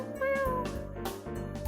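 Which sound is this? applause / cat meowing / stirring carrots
cat meowing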